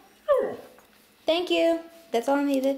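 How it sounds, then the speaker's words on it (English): A pet dog whimpers with a falling whine, then gives whiny yips and higher vocal cries, close by, with a person talking over part of it. "Yeah, that's my dog."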